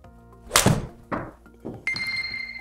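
A golfer strikes golf balls with a club while testing a HackMotion swing analyser, three sharp separate impact thwacks about half a second apart, close and loud, the last followed by a faint electronic tone.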